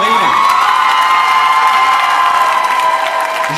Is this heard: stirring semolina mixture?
no